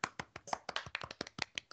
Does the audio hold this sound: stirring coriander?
no